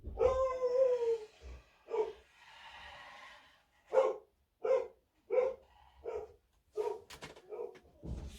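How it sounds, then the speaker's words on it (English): A pet dog barks indoors at an arriving delivery, a string of about a dozen sharp, fairly close barks and yips with a drawn-out howl-like start, spaced irregularly with short gaps. "My dog's going to bark in a minute because we've got something arriving."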